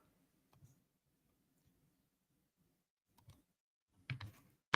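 A computer mouse clicks a few times near the end, sharp and close but quiet, after a long near-silent stretch with faint low hum and occasional soft ticks.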